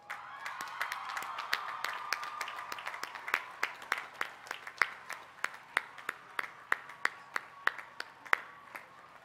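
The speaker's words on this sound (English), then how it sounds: "well-deserved round of applause" A graduating crowd at a college commencement gives sustained applause, many hands clapping in a dense continuous patter with sharper individual claps standing out, fairly distant in a large space, no talking.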